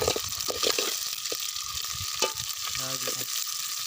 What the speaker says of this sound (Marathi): कांदा टाकल्यावर वाटतं आपल्याला कांदा चांगला मित्रांनो लाल करून घ्यायचे कांदा